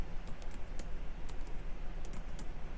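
Quick bursts of keystrokes on a computer keyboard, light clustered clicks over a steady background hum, close and fairly quiet with no voices.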